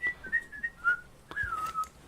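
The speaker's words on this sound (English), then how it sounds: "Maybe he needs to start like recording music of him just whistling" A person whistles a short wandering tune alone, with clear sliding notes in two phrases separated by a brief pause.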